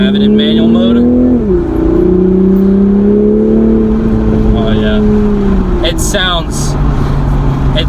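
A 2021 Toyota Supra in manual mode pulls at half throttle on local roads with the windows down, a loud, steady engine drone that shifts pitch once and holds, then eases off.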